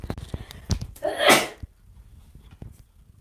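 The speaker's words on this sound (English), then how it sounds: "Oh, gotta sneeze." A single sharp sneeze bursts out close by, preceded by a few quick breaths and followed by quiet.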